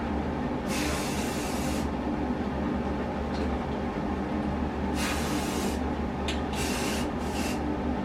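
Spray paint hisses in short bursts as winter camo is applied to a Nezumi chest rig: one long spray, a pause, then several quicker bursts over a steady low background hum.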